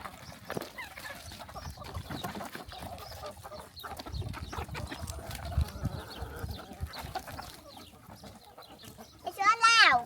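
Chickens cluck softly and scratch while pecking at scraps spread on the ground, with scattered low rustling throughout and a sharper, louder squawk right at the end, a voice talking faintly in places.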